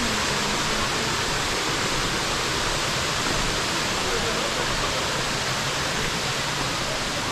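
Rushing water pours at Erawan Falls, a dense, steady, loud roar of white noise that fills the whole stretch without a break.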